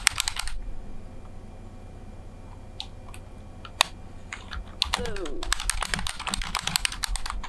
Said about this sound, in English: Sorry, just lots of typing.